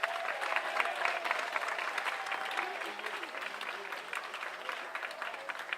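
Audience applause for young musicians at an Indian classical music event, sustained clapping throughout with a few louder individual claps standing out, a faint murmur of voices underneath, easing slightly toward the end.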